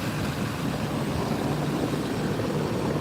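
A loud truck engine runs steadily and close by, a dense low roar holding constant throughout with no breaks.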